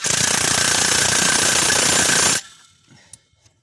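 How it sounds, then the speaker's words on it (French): An impact wrench rattles hard against a car wheel's nuts during a drive belt job, one loud continuous burst of about two seconds that stops abruptly, leaving faint workshop clatter. "Une fois qu'il est prisé, vous n'avez plus qu'à repasser votre flash choc et réitérer la chose"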